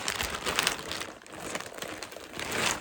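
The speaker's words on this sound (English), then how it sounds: "Let's do the other plastic bag and get these out of here." A plastic bag crinkles and rustles up close as wool yarn is unpacked from it, in irregular bursts of crackling that rise and fall over a few seconds.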